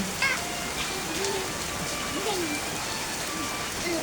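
Rain falls steadily in a rural Thai setting, a soft continuous patter on surfaces, with faint voices and calls drifting in the background.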